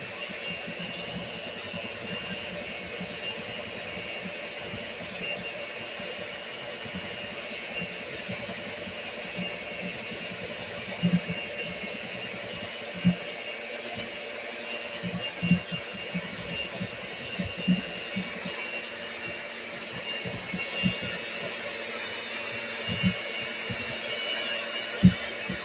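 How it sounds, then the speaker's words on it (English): An electric mixer runs on a low setting through blueberry muffin batter, producing a continuous soft motor drone with faint tonal whine and occasional small knocks and bumps against the bowl. "And I have the mixer on very low."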